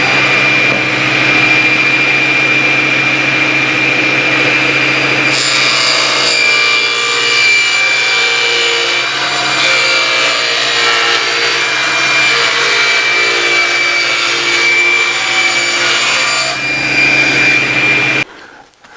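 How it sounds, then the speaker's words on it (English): A power saw roars steadily as it cuts the wooden top and bottom panels of a roll-around tool cart to size, a loud, sustained whine with a motor run-up and abrupt stop, no talk. "I'll cut the top and bottom to their finished size, 15 9/16 by 27"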